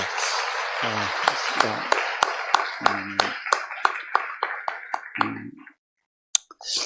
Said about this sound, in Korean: 축하 박수 한번 합시다.